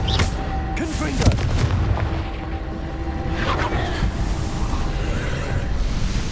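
Confringo fire spell blasts cast in the Hogwarts Legacy video game at a castle, a booming impact followed by a rumbling, crackling wash of in-game battle noise, with a voice shouting over it.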